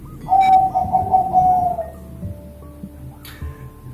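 Perkutut (zebra dove) of the Peksi Aji Kol Buntet type cooing in a short phrase of soft, clear notes lasting about two seconds, then quieter background noise, with no talk.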